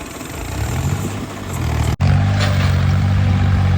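A heavy tractor engine rumbles steadily up close while the tractor and its plough are stuck, deepening and growing louder after a brief cut midway, as if straining under load.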